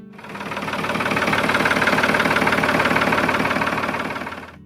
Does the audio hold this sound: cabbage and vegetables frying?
no